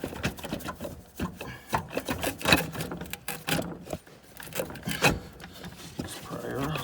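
Scraping, clicking and rubbing of metal as an alternator part is pried off a 2014 Chevy Malibu 2.4L hybrid, irregular close-up knocks and rasps, with someone talking over the work.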